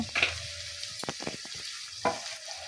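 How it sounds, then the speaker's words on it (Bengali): Potatoes fry in a spice paste for a lote fish curry, a soft steady sizzle broken by a few sharp scrapes and stirring knocks of a spatula in the pan. "আলুটা কিন্তু আমি এইভাবে মশলার মধ্যে কষিয়ে নেবো"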